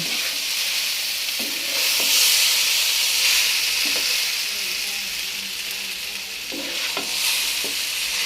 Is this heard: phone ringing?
no